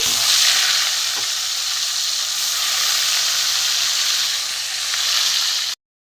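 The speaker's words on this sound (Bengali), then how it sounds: "এবার আমি মাছটা ভেজে নেবো প্রথমে দেখতে থাকুন আমি ভেজে নেবো" Ganges dhela river fish frying in hot oil gives a loud, steady crackling sizzle that runs unbroken for nearly six seconds, then stops abruptly.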